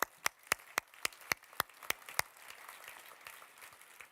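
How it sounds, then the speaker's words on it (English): Sparse clapping from a handful of people at a Politico tech launch event: about nine sharp, evenly spaced claps over two seconds, then it trails off into a quiet room. "a round of applause, first of all"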